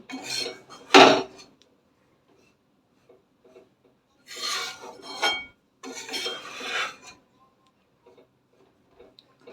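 Ragi flour roasting in ghee in a pan, giving dry scraping and rubbing bursts as a utensil stirs it, a sharp clink near the start and two longer scraping passes later, with quiet gaps between.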